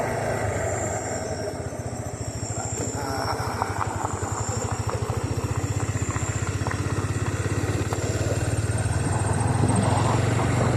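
A motorcycle engine drones steadily and close up as the bike rides along at night through the Buxa Tiger Reserve forest, a continuous low rumble that grows slightly louder toward the end.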